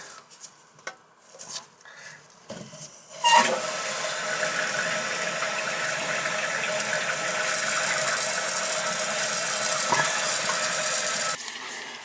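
A ratchet wrench cranks toilet mounting bolts down onto a wax ring while a new toilet replaces an old wall-hung one, a few scattered clicks first, then a sustained close, loud rasping run that cuts off abruptly.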